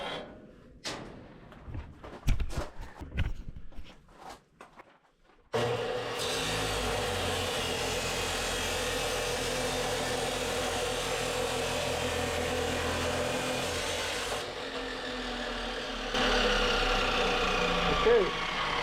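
An abrasive chop saw cuts through steel pipe clamped in a vise: a sustained, loud grinding whine with a rough hiss that runs for over ten seconds, preceded by scattered clanks and handling noises, then shifts slightly in tone near the end.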